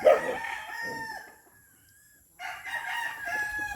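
A rooster crows loudly and close by in a small chicken coop, one long call that trails off, then a second crow begins after a short quiet gap, with faint clucking from the chickens around it.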